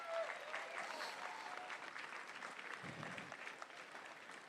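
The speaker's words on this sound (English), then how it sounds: "let's see if we can give them a round of applause to get them out here." An outdoor crowd at a live drone show event in Medora gives a faint, distant round of applause for the Army National Guard Band, a soft steady patter throughout.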